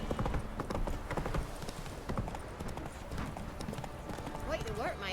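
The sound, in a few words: horse hooves galloping, from video game The Witcher 3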